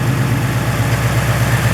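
A 2015 Ford Mustang GT V8 with Stainless Works headers and exhaust idles close by, a loud, steady, rumbling low throb with a pulsing beat and no speech.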